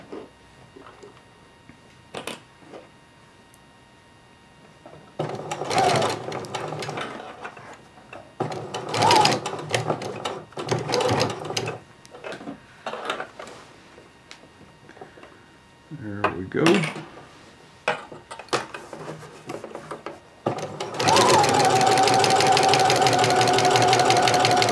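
Sewing machine stitching curved crotch seams on a pair of shorts, in bursts of fast mechanical whirring separated by pauses and small handling clatter, ending in a long continuous run of stitching close to the microphone.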